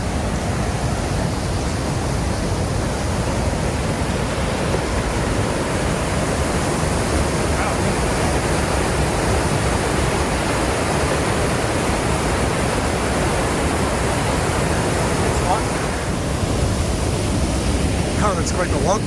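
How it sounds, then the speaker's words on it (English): Small waterfall in a gorge in the Canadian Rockies, a steady, loud, broadband rush of falling water that stays constant throughout with no pauses. "Sounds like there's another little mini waterfall."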